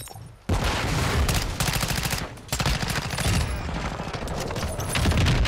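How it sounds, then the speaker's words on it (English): Rapid, high-rate SMG gunfire from the Chimera in Call of Duty: Modern Warfare rattles in loud, sustained bursts, with a brief pause after the first second before the firing resumes. "Sound like a high rate of fire."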